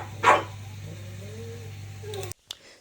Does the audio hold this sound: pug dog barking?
yes